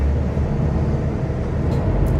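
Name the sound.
Mercedes-Benz Citaro G articulated bus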